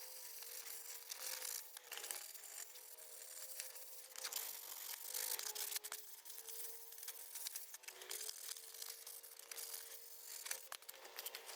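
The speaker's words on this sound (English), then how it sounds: "do a quick scuff with a 320 grit just to kind of take the shine down a little bit" 320 grit sandpaper scuffs a plastic Jason Voorhees hockey mask, a faint, soft, rhythmic rubbing heard close up and alone, strokes rising and falling in quick uneven passes.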